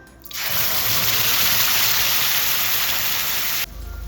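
Ground onion, tomato and dried red chili paste drops into hot sesame oil and erupts into a loud, close, steady sizzle that holds for about three seconds before easing down.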